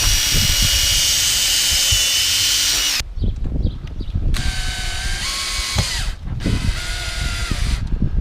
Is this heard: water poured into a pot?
no